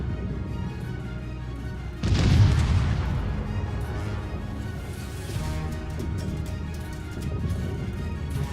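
In the naval battle game World of Warships, a ship's guns fire in one heavy, loud boom followed by a long fading rumble over a steady low background drone.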